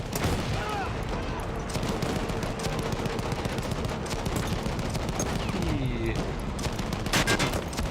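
Battlefield 1 combat with dense, continuous rifle fire and rattling machine-gun bursts, close and loud, overlapping with distant shots and shouted in-game voices.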